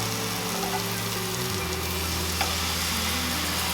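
Ribeye steaks crackle on a Chefman electric smokeless indoor grill, a dense, close, continuous sizzle with a low electrical hum beneath it and no voices.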